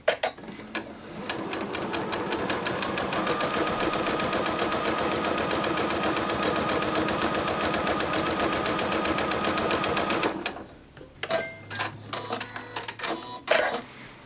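A sewing machine runs a quarter-inch seam down the side of paired fabric quilting squares, a fast, steady, close stitching rattle for about ten seconds that then stops, leaving a few faint handling noises.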